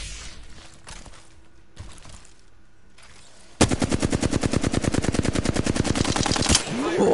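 Sustained rapid automatic gunfire aimed at the player in a shooter game, loud and close, a dense rattling burst lasting about three seconds after a quieter stretch of muffled shots and ambience.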